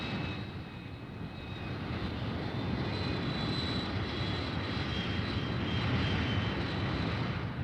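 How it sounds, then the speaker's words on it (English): Fighter-bomber aircraft taking off from an air base, a steady loud engine roar with a high whine, building slightly and holding for several seconds, with no voices. "Back at the base, the fighter bombers take off."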